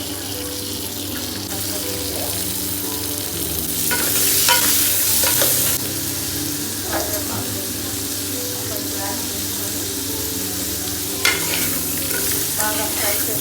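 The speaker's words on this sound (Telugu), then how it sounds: "బాగా ఫ్రై చేసేసుకోవాలి." Three small tomatoes fry for mirchi fry pappu in a sizzling pan, with steady close frying and occasional stirring scrapes, plus brief water running in the background.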